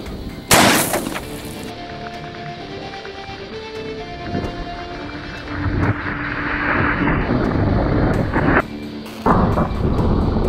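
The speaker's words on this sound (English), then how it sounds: "we're going to try the slug versus the water bottle. Shotgun slug, 12 gauge." A 12 gauge slug fired from a Maverick 88 pump shotgun at a water bottle gives one loud, sharp boom near the start, then a long rumbling tail and a second thump later, with outdoor noise.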